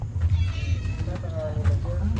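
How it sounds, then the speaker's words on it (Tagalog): A cat meows a few times nearby in a dark outdoor setting at night, its cries mixed in with people talking. "Pusa pala yan."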